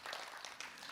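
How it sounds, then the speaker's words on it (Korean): An audience at a Buddhist monk's question-and-answer session applauding after a questioner introduces herself, a brief, soft patter of many hands clapping at a distance. "박수 많이 주세요"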